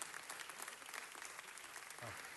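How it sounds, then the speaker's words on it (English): Applause at a Los Angeles City Council meeting, given as another round for a speaker. A close, busy burst of many hands clapping that stays dense and even, with a faint murmur underneath. "Let's give him another round of applause."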